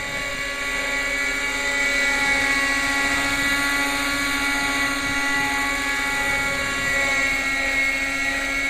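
Quickie .18 nitro RC helicopter engine running steadily at high revs, a loud continuous buzzing whine with a strong steady tone and rich harmonics, heard close and alone for the whole stretch.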